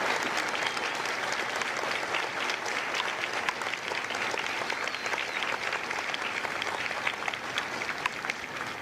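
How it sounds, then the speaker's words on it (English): Audience applause at a Marine Corps Recruit Depot San Diego recruit graduation ceremony, a sustained even roar of many hands clapping for several seconds, fairly distant, with no speech on top. "A round of applause for their dedicated service to Corps and country."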